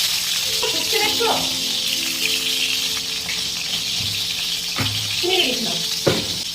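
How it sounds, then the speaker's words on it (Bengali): Pointed gourd (potol) frying in hot oil in a home kitchen gives a steady, close sizzle that runs throughout, while someone talks over it. "তেল গরম হয়ে গেছে, এবার পটলগুলোকে ভেজে নেবো।"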